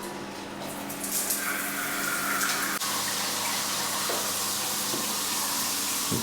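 Water from a bathroom shower fixture runs steadily and splashes out over the edge onto the tiled floor, in a house in Oliva, Spain; a continuous broadband hiss with small shifts in the flow.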